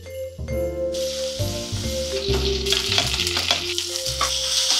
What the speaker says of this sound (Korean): 마늘 볶다가